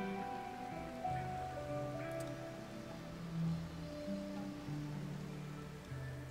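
Rain falls in the video game Rimworld as a soft, steady patter, faint and continuous beneath sustained tonal game music.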